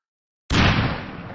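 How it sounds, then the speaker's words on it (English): A single sudden explosion sound effect from an animation bursts in after silence, loud and booming, then tails off into a rumbling decay. "The explosion sound"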